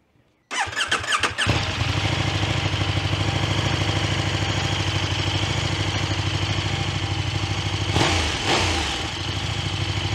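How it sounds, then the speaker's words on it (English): A 2024 KTM 1390 Super Duke motorcycle cranks and fires up after a short silence, then settles into a loud, steady, close idle with a brief blip of revs near the end. "here's the bike starting up, and I'll leave it at the end of that"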